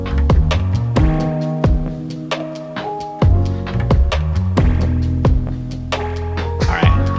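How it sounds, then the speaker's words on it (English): Old delta 3D printer moving its three stepper motors together, giving a loud, steady hum of whining tones that shift pitch every second or so, punctuated by sharp knocks. "every time you want to position your print head, you have to move all 3 of those stepper motors at a time, which makes a noise"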